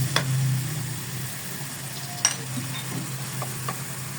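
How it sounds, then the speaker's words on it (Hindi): Chopped onions frying in hot oil with turmeric for a beef and kidney bean dish, giving a steady close sizzle with a few light stirring clatters and occasional spoon taps. "इसको प्याज को अच्छा सा फ्राई कर लेते हैं"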